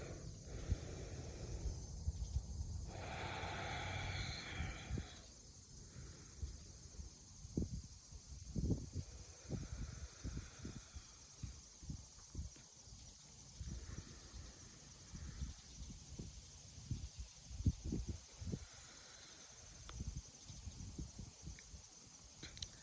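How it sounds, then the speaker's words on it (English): Three slow deep breaths taken outdoors on grass, each a soft airy inhale and exhale, close to the microphone, with wind buffeting and rustling in the background and no speech. "I'm going to invite you to take 3 deep breaths with me"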